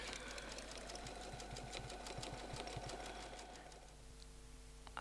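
A domestic sewing machine runs steadily while quilting feathers with templates, its fast even needle chatter continuing at close range for most of the clip, then easing to a softer, quieter hum near the end.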